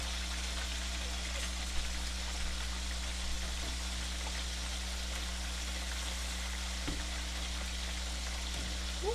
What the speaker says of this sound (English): As you can see, I've already put the chicken in. It's frying.